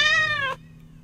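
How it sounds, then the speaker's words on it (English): A kitten's meow played back by a Windows Phone app: one clear, rising-then-falling mew about half a second long, close and alone, followed by quiet hiss. "I heard a cat kitten."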